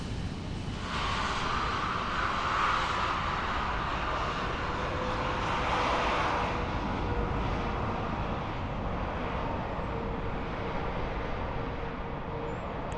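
A Ryanair airliner touches down at Dublin Airport in Microsoft Flight Simulator 2020, with a steady jet engine roar and rushing air holding at an even loudness across the whole stretch, no talking.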